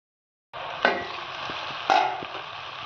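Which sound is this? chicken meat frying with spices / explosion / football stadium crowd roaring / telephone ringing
chicken meat frying with spices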